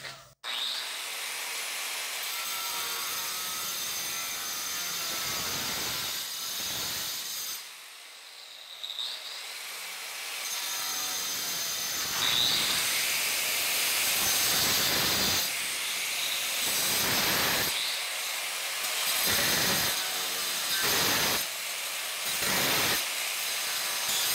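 A cutting disc grinds into a wall to open a slot for an electrical box: a long, harsh, close abrasive whine broken by several short pauses as the blade lifts out and plunges back in.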